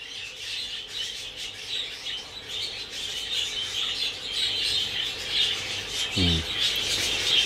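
Pet birds in an outdoor setting chirp and tweet continuously, a dense layer of bright calls and twitters at moderate distance, with one brief low thump near the end.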